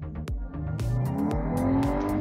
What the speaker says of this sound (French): On a même un son moteur qui est quand même agréable